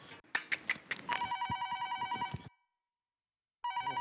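A telephone rings in a home, a loud electronic trill in two bursts separated by a short silence, with clattering noise before the first ring.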